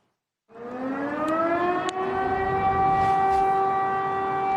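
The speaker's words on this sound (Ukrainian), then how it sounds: "Києві знову лунає сирена." A loud air raid siren in Kyiv starts abruptly after a moment of silence and holds a steady wailing tone, close and continuous, with faint clicks briefly audible.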